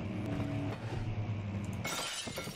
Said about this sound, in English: You can break that glass.